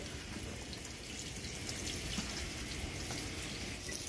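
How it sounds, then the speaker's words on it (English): Running tap water splashes steadily as grass is rinsed beneath it. The wash sounds continuous and fairly close, with no voices. "Just rinsing my grass off."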